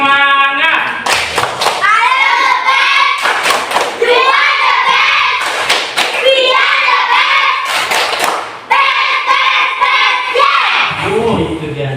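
A class claps a rhythmic spirit clap in bursts of patterned rhythm while children's voices chant and call along, loud and close.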